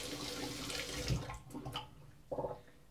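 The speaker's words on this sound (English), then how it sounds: "using hot water to rinse everything off." Hot water runs from a tap over a razor being rinsed, a faint steady splash broken by brief louder gushes as the blade passes under the stream, with no voices.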